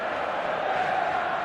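Stadium crowd in an eFootball match, a dense steady roar of many voices filling the whole moment, loud and unbroken, with no distinct claps or individual shouts standing out.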